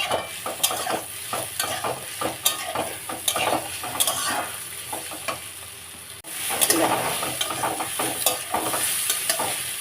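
Taro stir-fried with shrimp sizzling in a pan while a spatula repeatedly scrapes and stirs, producing irregular clanking strokes over a constant frying hiss; no talking.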